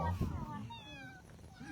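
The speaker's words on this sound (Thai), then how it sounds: "แมวเข้ามาหลายตัว" A cat, one of several strays that wander in, gives a short wavering meow close by, overlapping with a person talking.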